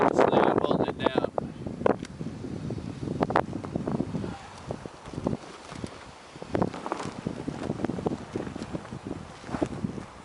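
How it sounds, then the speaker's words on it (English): Gusty wind buffets the microphone outdoors beside an AquaDam water barrier, roaring and rustling unevenly, sometimes surging louder, sometimes easing off. "It's kind of windy out here"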